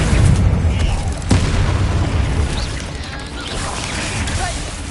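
A fiery blast spell bursts in the Hogwarts Legacy video game, a loud boom at the start with another sharp crack about a second in, then rumbling debris and battle clatter. Voices shout through the fight.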